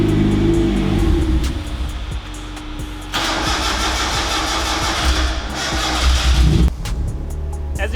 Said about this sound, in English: And this turbo likes to build boost.